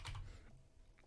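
A few quick keystrokes tap on a computer keyboard, a short soft burst of clicks at the start followed by an isolated faint key press, quiet and close.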